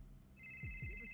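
Phone ringing inside GTA V during a NoPixel roleplay session, with a bright sustained ring tone repeating over low background talk and movement.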